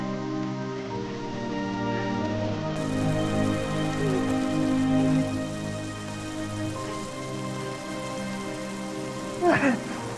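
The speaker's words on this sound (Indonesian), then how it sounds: "kayaknya hujannya makin deras deh nih" Heavy rain pouring steadily outdoors, a dense continuous hiss that keeps a constant loudness throughout, with a few faint background sounds and no clear talk.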